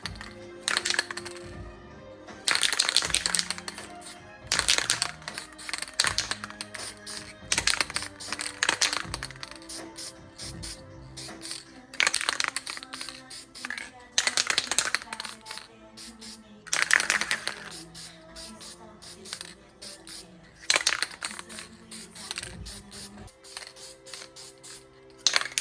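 Copper gasket spray being applied to a part of a 2017 WRX STI EJ257 engine during a rebuild: repeated short hissing bursts of the aerosol, each a second or two long, separated by pauses and clattering handling sounds.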